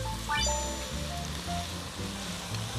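Cabbage, wood ear mushroom and carrot sizzle in a hot pan for Taiwanese fried rice noodles, a steady close frying hiss with a few faint clinks.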